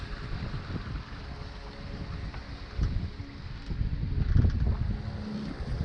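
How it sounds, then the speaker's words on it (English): Sailboat under jib alone on Lake Michigan, with steady rushing water along the hull and wind buffeting the microphone, growing somewhat louder and rougher partway through. "Got a little sail on her, just the jib today out of pure laziness."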